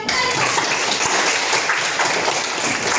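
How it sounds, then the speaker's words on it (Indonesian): A classroom of students claps for a classmate, a dense, steady patter of hands that continues evenly throughout with no voices on top. "Beri tepuk tangan yang meriah."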